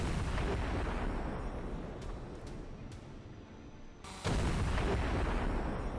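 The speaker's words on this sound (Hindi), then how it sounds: "बर्फीले जंग वाले इलाके में गियासन S सेल्फ प्रोपेल्ड तोपों से दनादन गोले दागे जा रहे हैं।" Self-propelled artillery guns fire shells in a snowy combat zone: a continuous roar of blasts and rumble, dipping briefly in the middle before swelling loud again, with no voices.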